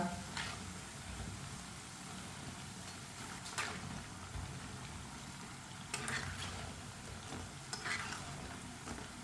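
Besan pakoras sizzle and crackle steadily in hot oil in a pan, with occasional sharper clatters from stirring or turning them, fairly close and quiet without talk.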